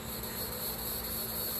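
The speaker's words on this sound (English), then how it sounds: "This cicada is gonna go forever." A cicada buzzing, a steady high-pitched drone that continues without a break, with faint outdoor background beneath it.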